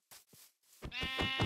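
Sheep bleating in a survival video game, a couple of short quiet bleats followed by a louder, sustained wavering bleat close by, with no talk over it.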